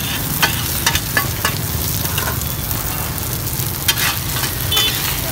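Rice flour cake pieces sizzle and fry on a hot pan at a street food cart in Saigon, with a steady loud hiss and occasional scraping and stirring clinks up close.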